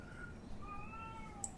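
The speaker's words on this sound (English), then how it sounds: "my cat is needy out there." A house cat meows faintly from a distance, a couple of thin drawn-out cries over quiet room noise, with no talking.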